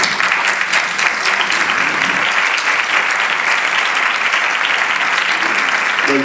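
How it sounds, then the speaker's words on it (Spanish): An audience at an educational conference on adolescence breaks into loud, sustained applause, dense clapping that stays steady from start to finish with no voices breaking through. "Un fuerte aplauso para él."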